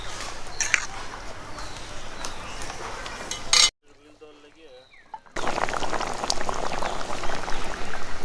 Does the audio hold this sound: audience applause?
no